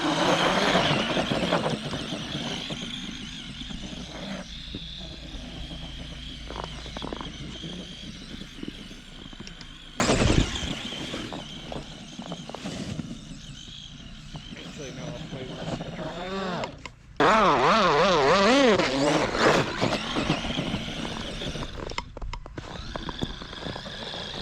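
An Arrma Gorgon RC truck runs pinned at full throttle through snow, its high electric motor whine rising and falling in sweeps, with voices talking over it throughout.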